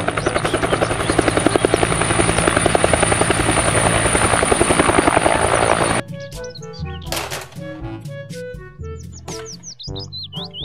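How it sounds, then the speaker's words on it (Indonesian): A toy helicopter gives a loud, steady rotor buzz with rapid pulsing for about six seconds, then stops abruptly and gives way to music with chirpy tones. "Helikopter."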